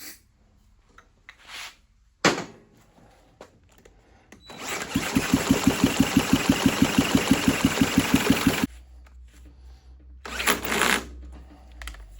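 A small Honda CT70 motorcycle engine on a bench briefly fires and runs for about four seconds with a rapid, even put-put beat, then cuts out, framed by short mechanical clanks and rustling.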